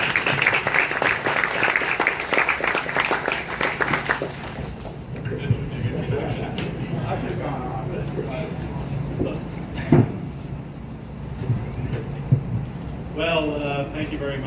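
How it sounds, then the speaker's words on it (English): Audience applause at a Dallas Zoo parking garage dedication ceremony, loud and sustained at first, then fading into room noise with a few thumps and a voice starting near the end. "Let's give him a big round of applause."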